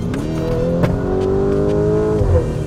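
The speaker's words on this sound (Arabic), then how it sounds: "صوت الاكزوست بيختلف اختلاف مش عادي، يعني هلا الصوت هاي نص دعسه شيء بسيط" A 2021 Lamborghini Urus exhaust at half throttle, a loud, close engine drone holding steady then easing off, with a short burble near the end.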